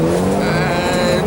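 A 1989 Mitsubishi Ralliart Europe Galant rally car's engine pulls hard under power, a loud, close, rising harmonic whine in a short burst.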